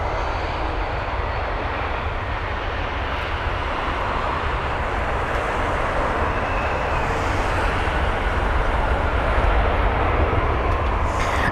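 A Korean Air Cargo Boeing 777 freighter arriving at Heathrow, its deep, loud engine roar steady and continuous across the whole stretch, with no talking over it.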